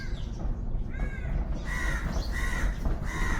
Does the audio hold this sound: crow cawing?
yes